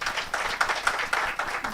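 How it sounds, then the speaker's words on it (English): An audience claps together at a clinical officers' symposium in Nakuru, Kenya, a brief, loud, dense burst of applause with rhythmic peaks, heard with no voices over it. "Can you clap for yourself?"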